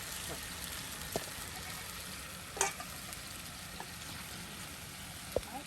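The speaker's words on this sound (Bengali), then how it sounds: "কিন্তু মাছগুলো সুন্দর করে মশলায় কষিয়ে নেওয়া হবে" Fish being fried in spices in a pan, giving a steady soft sizzle with occasional stirring clicks and scrapes, quiet and close.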